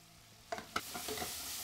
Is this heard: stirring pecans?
yes